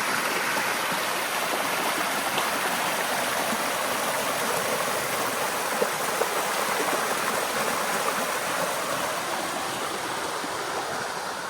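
A creek stream at Shady Creek in Litchfield National Park gives a steady, unbroken rush of flowing water, loud and close throughout, with no voices.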